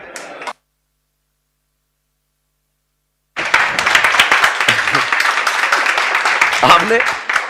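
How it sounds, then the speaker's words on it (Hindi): A lecture audience claps after a finance class, a sustained, bright, densely packed patter of clapping that starts abruptly after a silent gap and continues steadily, preceded by a brief snippet of talk. "आप लोगों ने तालियां बजा दी"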